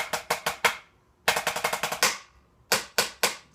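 Sharp rim shots on a Xymox Reserve Corps electronic snare pad, struck in quick bursts of four or five hits with brief pauses between groups, crisp and close with no voices.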